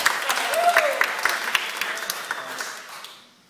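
Wedding guests applaud during a ring exchange, a burst of clapping that starts loud and fades out over a few seconds, with a brief voice under it.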